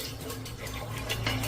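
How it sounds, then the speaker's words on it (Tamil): Water is poured or run into ragi flour batter in a home kitchen, a steady soft trickle that keeps going throughout, fairly quiet and without talk. "இன்னும் கொஞ்சம் தண்ணி சேர்த்துக்கலாம்."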